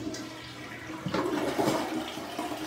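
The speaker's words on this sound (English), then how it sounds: "Let's go ahead and flush it." A toilet flushes close by, a short click followed by a rising gush and swirl of water that drains over a couple of seconds.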